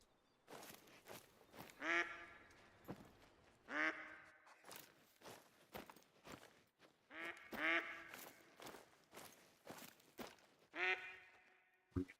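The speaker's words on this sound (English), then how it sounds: "We have ducks everywhere, and they are protected by mallards." Mallard ducks quack in bursts of harsh, nasal calls repeated in clusters, fairly close and loud, outdoors in woodland in Oregon, with light rustling between the calls.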